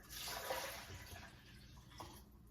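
Water pours in a steady splashing stream into a blender for a couple of seconds, then tapers off, heard up close and fairly quiet.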